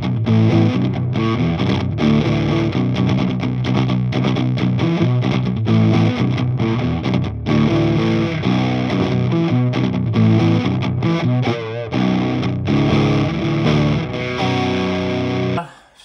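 An ESP E-II Horizon electric guitar in drop B tuning plays heavy distorted riffs, with chugging low palm-muted notes and chords in a dense, loud, continuous stretch.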